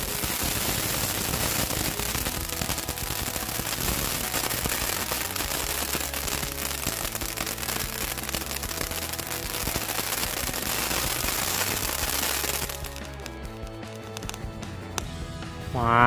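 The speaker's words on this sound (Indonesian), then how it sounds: "Ini adalah mercon air mancur guys" Fountain firecracker burning outdoors, a loud continuous crackling and hissing spray that runs without a break for about twelve seconds, then cuts off, leaving quieter ambience.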